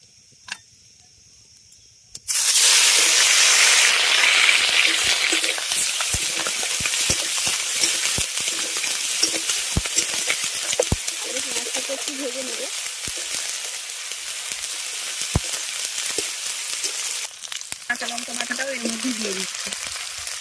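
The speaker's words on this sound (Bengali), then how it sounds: "তেল গরম হয়ে গেলে এর মধ্যে বেটে নেওয়া পেঁয়াজটা দিয়ে দেবো" Ground onion paste drops into hot oil for a Katla fish curry, bursting into a loud, steady sizzle that holds close and continuous, with faint voices now and then.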